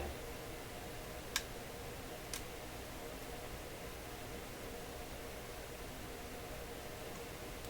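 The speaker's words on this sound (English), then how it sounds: "I'm pretty sure that's thermal expansion contractions I'm hearing" Two faint, sharp ticks from thermal expansion in an old Loewe Opta Type 5966 radio stand out over a steady hiss of background noise, irregularly spaced, with quiet static filling the rest.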